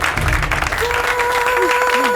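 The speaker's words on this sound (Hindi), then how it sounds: "एक बार जोरदार तालियां तुलसी जी के लिए।" A studio audience at a Bhojpuri TV game show bursts into loud, sustained applause for a contestant. Dense clapping fills the whole stretch, with a sustained musical tone rising underneath.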